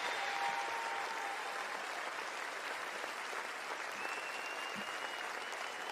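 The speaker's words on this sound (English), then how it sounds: "what it sounds like they did was you heard that big applause" Big applause played at a veterans' event, a steady, unbroken wall of clapping and crowd noise lasting several seconds.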